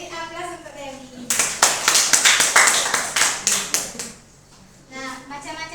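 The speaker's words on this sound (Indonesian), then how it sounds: "Beri aplaus untuk Dewi." A classroom of sixth-grade students applauds a classmate with a short, brisk burst of clapping, about three seconds long, and a teacher speaks before and after it.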